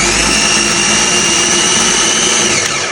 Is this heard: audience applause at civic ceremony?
no